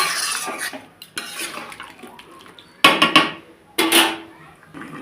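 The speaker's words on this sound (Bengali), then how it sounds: "তো এই থালাটা দিয়ে হালকা করে ঢাকা দিয়ে গেলাম" A metal plate set down over a pot of goat meat curry with clattering clinks of metal against metal, two sharp loud impacts standing out from lighter scraping and kitchen clatter.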